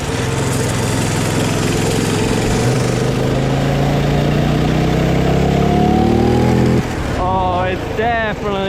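A $100 minibike's small engine revs steadily and climbs in pitch during a ride, loud and close for most of the clip, then drops away as a voice comes in near the end.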